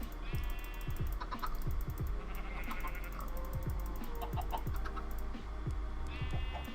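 Chickens cluck in the Go Create farming game, short bursts of clucks and squawks repeating over a busy background of game music and effects, with voices in the mix.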